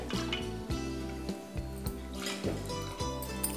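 Water poured from a cup into a pot of rice and moong dal, a soft gurgling trickle with a few splashes and clinks, fairly faint.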